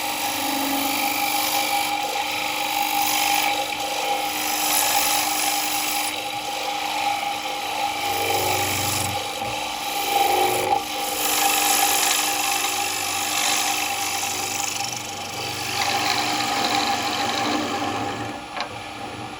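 Quarter-inch, 55-degree swept-back bowl gouge hollowing a wooden bowl on a woodturning lathe, a steady whirring hum with rasping cuts that swell and fade over the whole stretch, with no talking.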